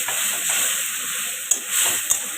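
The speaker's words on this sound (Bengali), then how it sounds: "মশলাগুলো ঢেলে দিচ্ছি" Spices hit a hot pan for a paneer and vegetable dish, producing a loud, continuous close sizzle broken by two sharp stirring clicks.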